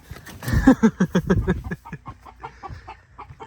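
A Leghorn rooster clucks in a quick run of sharp, rhythmic calls, loud and close at first, then softer and more scattered, in a northern Wisconsin winter.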